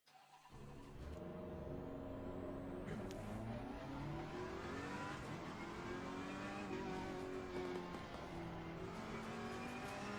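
Ferrari 488 GT3 Evo race car lapping Silverstone in a racing video game, engine roaring continuously with rising and falling revs through gear shifts and a brief tire squeal, steady and loud throughout with no talk.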